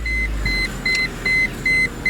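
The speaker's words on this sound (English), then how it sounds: "It's going to beep at me." Repeated electronic warning chimes from a 1999 Mercedes-Benz CLK320 Convertible on ignition, about six evenly spaced bright beeps over a low idling engine rumble, close and clear.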